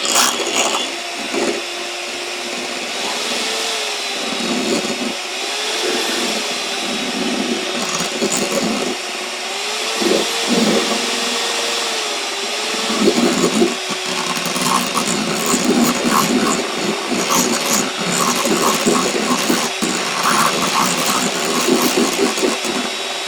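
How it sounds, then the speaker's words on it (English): A loud electric mixer whips a mixture in a bowl with a steady motor whine and rattling, scraping clatter against the bowl that continues throughout. "The kit says to mix with an electric mixer for about 3 minutes or until you get stiff peaks."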